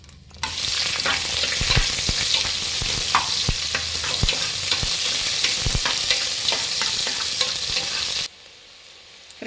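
Onions crackle and sizzle steadily in hot oil alongside curry leaves and bay leaf, with repeated scraping strokes of a spoon stirring the pan for methi bath, close and loud, then a sudden drop to quiet near the end.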